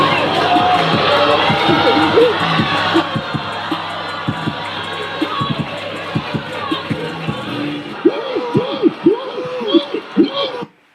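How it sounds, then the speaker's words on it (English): Women in a crowd cheer loudly together, a dense roar that thins into scattered high whoops and hoots near the end, then falls quiet. "the women would not be cheering like this"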